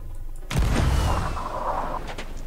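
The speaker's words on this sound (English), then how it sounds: "Did you hear a cannon?" A single deep boom of cannon fire in a pirate video game, a heavy low blast with a rumbling tail lasting over a second, followed by faint distant thuds.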